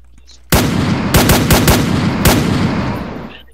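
Video game gunfire, fired wildly: a sudden loud burst, then several sharp, rapid cracks over a sustained roar of shooting that fades out after about three seconds.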